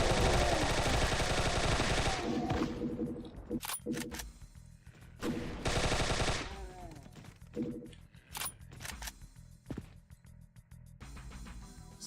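An Uzi machine pistol in the Doom Roguelike RPG video game fires in several rapid automatic bursts, loud and close, with short pauses and scattered single cracks between them.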